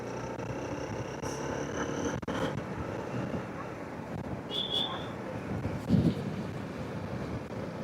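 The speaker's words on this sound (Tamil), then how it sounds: "இன்ஜின் நல்லா ரிஃபைன் பண்ணியிருக்காங்க." A 2025 Honda Unicorn 160, a 160cc BS6 motorcycle, rides along with a steady low engine rumble mixed with continuous wind buffeting, holding an even level throughout.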